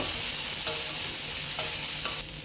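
Pasta sauce with tomato sauce and spices is stirred in a hot pan, a bright continuous sizzle with a few scraping strokes of the spoon, close and loud, easing off near the end.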